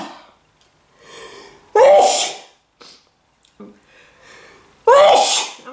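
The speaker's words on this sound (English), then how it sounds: "Otherwise I would never stop sneezing." Two sharp, loud sneezes, the second several seconds after the first, with quieter breathing and sniffling in between.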